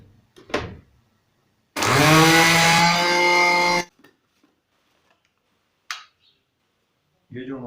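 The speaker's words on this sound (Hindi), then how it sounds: "ये जो हमारी अजवाइन है ये भी ग्राइंड हो चुकी है।" An electric grinder whirs loudly for about two seconds as it grinds carom seeds (ajwain). Short, faint knocks and handling noises come before and after the burst.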